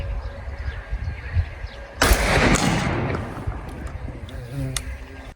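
A single sharp gunshot from a Russian cartridge of unknown brand, fired at a target, cracks loudly mid-clip and rings off into a long decaying tail over quiet outdoor background noise.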